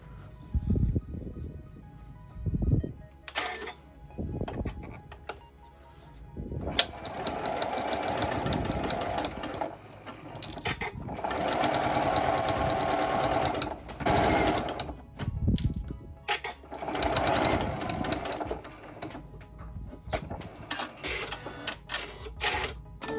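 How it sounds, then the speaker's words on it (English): A sewing machine runs in several bursts of rapid mechanical whirring and clatter while stitching a seam a quarter inch from a folded edge, with short pauses between runs and no talking. "we're going to do another stitch 1/4 inch from the edge"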